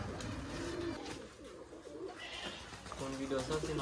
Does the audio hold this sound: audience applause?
no